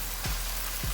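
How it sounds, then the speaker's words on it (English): Buttered burger buns for a fried salmon burger sizzle face down in a hot pan, a steady, close hiss of frying with two soft low thumps and no talk. "You hear that nice sizzle."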